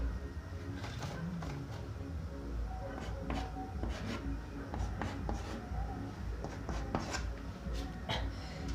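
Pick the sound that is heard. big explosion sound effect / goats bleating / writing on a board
writing on a board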